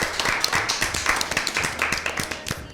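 Brisk, rhythmic clapping from a small quiz-show audience rewarding a correct answer at an Easter Bible quiz, steady and fairly close throughout.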